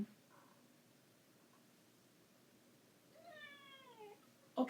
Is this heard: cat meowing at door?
yes